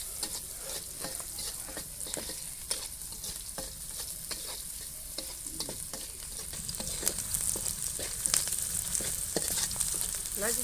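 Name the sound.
fried rice cooking in a wok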